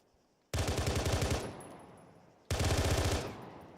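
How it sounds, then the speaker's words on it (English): Rapid automatic weapon fire in the Eridanus Insurrection game mod comes as two loud bursts of quick thudding shots. Each burst decays slowly, and the pair is separated by a brief lull. "Yeah, so the grenade launcher one works fine."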